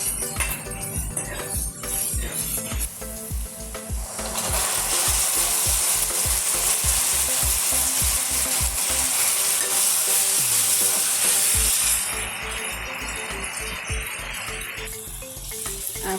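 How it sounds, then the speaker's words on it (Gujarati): Crushed onion tempering for panchmel dal sautés in a pan with a loud continuous sizzle, while a regular rhythmic knocking runs underneath; partway through the hiss grows brighter and then eases back. "હવે આ બધું આપણે બરાબર સાંતળી લઈશું"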